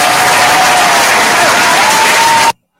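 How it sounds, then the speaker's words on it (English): A radio-show crowd breaks into loud, dense applause that holds steady for a couple of seconds, with a faint tone running beneath, then cuts off abruptly into silence. "Get around the applause."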